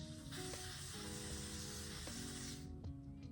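Steady hiss of a spray bottle misting onto a wig for about two and a half seconds, then cutting off, with faint handling clicks afterward; no talking.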